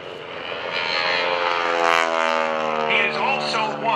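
A propeller aerobatic airplane flies a reverse Cuban 8 at the 2011 Blue Angels Homecoming Airshow, its engine droning steadily and loudly throughout and rising and falling in pitch with the maneuver.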